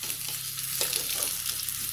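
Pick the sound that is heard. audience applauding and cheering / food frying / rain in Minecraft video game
food frying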